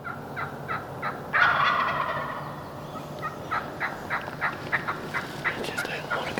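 Wild turkeys gobbling and clucking during spring hunting season, a loud rattling gobble early on followed by a series of shorter calls and clucks, heard in the open with faint outdoor background noise and no speech.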